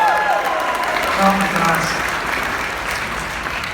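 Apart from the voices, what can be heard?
audience applause at Six Flags Over Texas reveal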